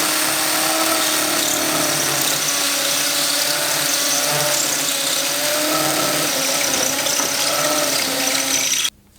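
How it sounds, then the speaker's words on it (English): A power drill drilling a pilot hole into concrete whines steadily and loudly for several seconds, grinding continuously before cutting off abruptly at the end. "drill your pilot hole"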